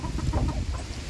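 A hen clucks in short, rhythmic bursts close by, over a low rumbling background.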